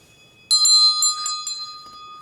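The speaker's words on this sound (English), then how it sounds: "I feel inspired to ring the bell." A bell struck several times in a quick, uneven series, each ring bright and sustained with a clear metallic tone, loud and close with no talking.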